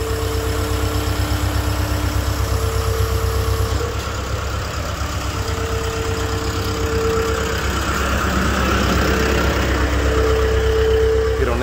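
A forklift engine idles steadily during a delivery lift, a close, constant low rumble with vibration and a faint tonal whine that drops out and returns, without clear talk.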